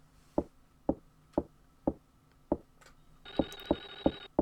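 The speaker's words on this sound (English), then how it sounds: "Hear the phone again." Telephone ringing in the SNES game Clock Tower, inside a manor: a shrill electronic ring bursts in near the end over a steady run of sharp, evenly spaced knocking thuds, with no talk.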